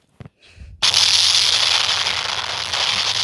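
Cannons in the Roblox game Wizard Tycoon go off after a couple of faint clicks, breaking into a loud, sustained crackling barrage of blasts that continues to the end.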